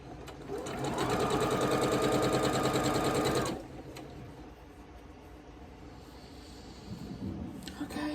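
A sewing machine runs steadily for about three seconds, chain piecing scrappy quilt blocks, then stops, leaving faint handling noises and light rustling behind.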